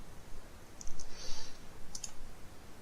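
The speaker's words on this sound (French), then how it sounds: "je vais cliquer sur Uploader des fichiers" A computer mouse gives two pairs of small, sharp clicks about a second apart, faint over soft room noise.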